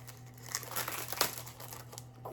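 Cheap dollar-store wrapping paper crinkles and crumples in close, uneven bursts as presents are wrapped, with a sharper crackle near the middle over a low steady hum.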